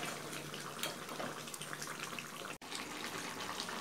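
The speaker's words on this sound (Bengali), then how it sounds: "তো এই যে গরম করে রাখা জলটা আমি এর মধ্যে দিয়ে দেবো" Hot water pours steadily into a pot of chicken curry, a continuous close splashing wash that carries on throughout with only a brief break near the end.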